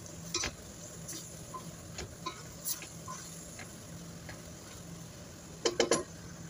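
Sautéed Baguio beans stirred in a pan with a spoon, giving scattered soft scraping clicks over a faint low sizzle and a cluster of sharper utensil taps near the end; no one speaks.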